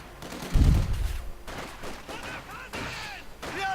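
Squad gunfire in a WWII strategy video game: a loud burst of rifle and machine-gun fire up front, then scattered shots and rattling volleys, with someone talking over the battle.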